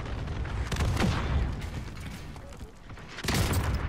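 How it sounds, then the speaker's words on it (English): Rocket launcher fire and blasts during a Call of Duty: Warzone match, loud bursts near the start and again near the end, with mechanical clatter in between. "He's shooting rockets."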